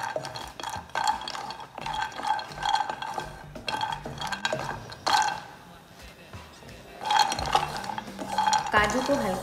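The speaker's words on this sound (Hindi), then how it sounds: "सबसे पहले हम यहाँ पर एक पैन लेते हैं और उसमें डालते हैं हम काजू, जिनको हम थोड़ा सा रोस्ट कर लेते हैं।" Cashews being tossed in a pan for light roasting, with repeated close clattering and scraping of nuts and utensil against metal, in steady bursts with a brief pause midway, while a voice talks over it.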